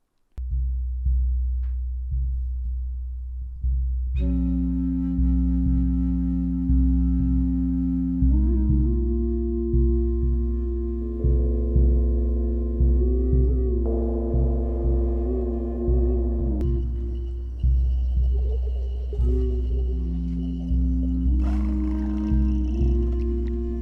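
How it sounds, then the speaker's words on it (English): Low, sustained purring tones from a music track, a deep pulsing drone running throughout with layered sustained synth-like pitches and shifting textures, loud and steady with no talk. "He was not lying about the purring."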